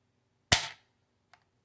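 A single sharp snap from the trigger of an Ermox X-Pro T shotgun, loud and close, followed a moment later by a tiny faint click.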